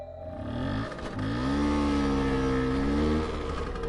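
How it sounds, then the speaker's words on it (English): A scooter engine hums from a distance behind, its steady drone rising slightly in pitch and loudness as it draws nearer, alone with no voices. "The distant hum of a second scooter, slowly getting closer from right behind him."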